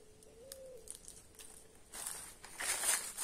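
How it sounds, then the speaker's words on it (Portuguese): Faint bird calls come through a quiet outdoor setting, followed by rustling, crackling noise that grows louder toward the end. "Passarinho cantando, que lindo."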